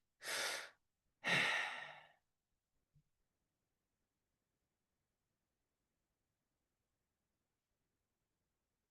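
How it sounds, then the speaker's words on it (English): Two slow, deliberate breaths during guided meditation, a long inhale followed by a long exhale, close and soft, then near silence with only a tiny click. "And you're breathing in and you're breathing out."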